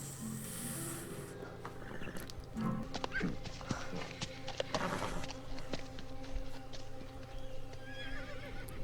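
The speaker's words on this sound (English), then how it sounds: "Is that a symbolic horse or a real horse?" Horse neighing and hooves clip-clopping in a scene from the TV series Lost, a whinny rising over steady hoof clops with rustling and movement noise throughout, moderately loud and fairly close.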